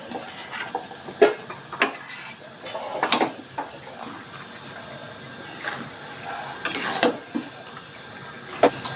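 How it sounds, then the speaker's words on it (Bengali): Potatoes go into a pan of cabbage cooking with egg, giving scattered clattering knocks and scraping bursts over a low background, loud in places and quiet between. "এবার আমি দিয়ে দিচ্ছি আলুগুলো"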